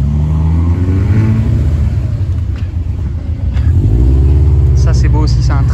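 A Subaru STI pulls away at an outdoor car meet in Switzerland, a loud low engine rumble rising as it drives off, with someone talking over it.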